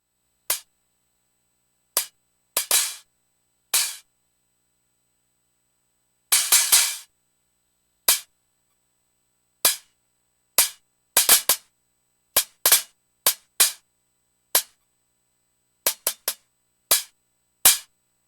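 Programmed MIDI drum pattern playing sharp, punchy hits alone against silence, with single strikes and quick double and triple bursts spread unevenly across the stretch.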